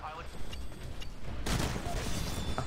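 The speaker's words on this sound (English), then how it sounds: "So this is the Amp Smart Pistol. It makes me shoot a little better." Gunfire from the Amp Smart Pistol in the Titanfall video game crackles in rapid bursts, growing denser and louder partway through, mixed with other game sounds.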